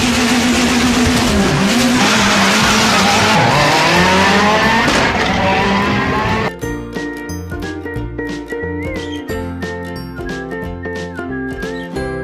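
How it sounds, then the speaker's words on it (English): A rally car races by with a loud engine that revs and whines up and down, joined by squealing tires. The roar runs continuously before shifting abruptly to sharper, more tonal sounds partway through. "Rally car."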